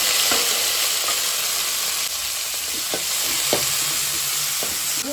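Onion, tomato, green chili and crushed ginger fry in oil in a pan for a fish curry, giving a steady close sizzle broken by several sharp clinks of a spoon stirring against the pan.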